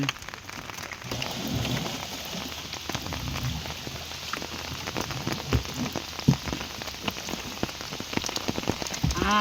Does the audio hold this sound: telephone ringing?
no